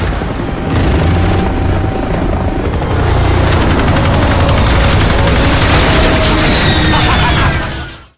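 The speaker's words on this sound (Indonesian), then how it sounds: "Drummer juga kini menghadapi dua buah helikopter tempur yang berusaha menembak jatuh mereka." Two combat helicopters roar steadily through a film battle scene, their loud rotor drone mixed with bursts of machine-gun fire and explosions.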